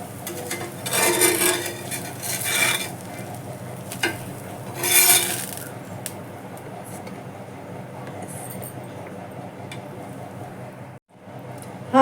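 Mung bean dosa batter being stirred and mixed in a bowl, a steady wet scraping and sloshing with a couple of louder swirls, close by, over a constant low background hum.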